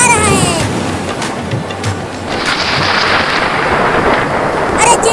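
A thunderstorm with heavy rain pours down steadily while low thunder rumbles, loud and close, the hiss of downpour filling the scene throughout.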